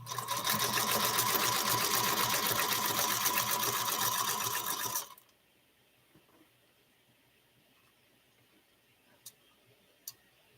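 A sewing machine runs steadily, stitching half-square triangle quilt pieces on foundation paper, loud and close for about five seconds before stopping abruptly, followed by near-silence with a couple of faint clicks.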